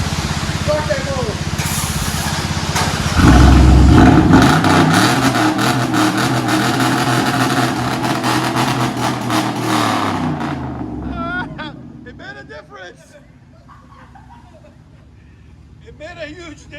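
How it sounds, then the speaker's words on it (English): A 2001 GMC Yukon with a 5.3L V8 and straight-pipe true dual exhaust on 6-inch tips fires up and revs hard, a loud deep roar swelling and then settling to a rumbling idle, with people talking over it. "Start that motor."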